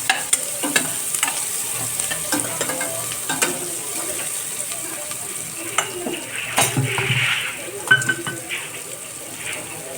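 Chopped onion fries and softens in a pan, a continuous close sizzle with the spatula stirring and scraping against the metal, a few sharper clinks and a light watery crackle.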